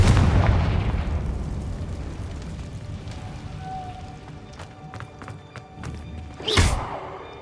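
The Confringo blasting spell explodes in the video game Hogwarts Legacy, a heavy booming blast that rumbles and fades, followed later by a sharp bursting whoosh, with a voice calling out the spell.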